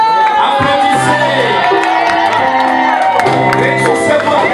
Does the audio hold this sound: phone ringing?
no